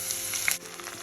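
Chopped green spinach hits hot oil with mustard seeds and chillies, giving a brief, steady frying sizzle with soft crackles and a slight dip in the middle, close and fairly quiet.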